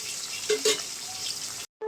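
Steady hissing sizzle of potatoes frying in oil left from frying fish, with a couple of brief louder crackles, then a short silence before the sizzling resumes.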